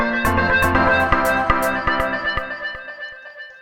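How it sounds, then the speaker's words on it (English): Delay send effect in Ableton Live, default setup: a rhythmic electronic pattern of clicks and tones that repeats in echoes, gradually thinning and fading toward quiet by the end, with no talking. "And the B send goes to delay,"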